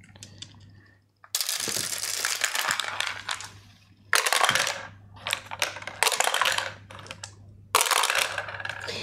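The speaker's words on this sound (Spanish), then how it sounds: "Las torres de dados es esa cosa que a mí me hace mucha gracia" Dice tumbling through a tabletop dice tower, heard as several loud bursts of clattering and rattling with short pauses between, alone without talk over a low steady hum.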